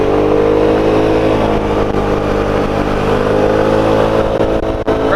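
A rented Peugeot scooter engine drones loudly and steadily on a winding Andalusian mountain road, a close buzzing hum that rises slightly in pitch, with wind rushing underneath.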